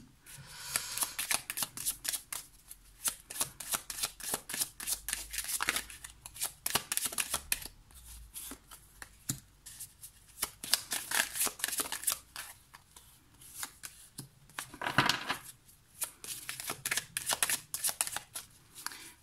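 Tarot cards riffled and shuffled by hand for a Sagittarius reading, a long run of quick crisp flutters and slaps, close and moderately loud, with a brief pause midway and no talking.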